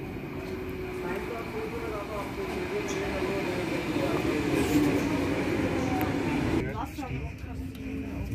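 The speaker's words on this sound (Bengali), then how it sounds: "আমরা অপেক্ষা করছি ট্রেনের জন্য, ট্রেনটা আসলেই তারপর ট্রেনে উঠে যাব" A train rolls into a station in Zurich with a continuous low rumble and hum that swells in the middle and then shifts near the end, while voices murmur faintly in the background.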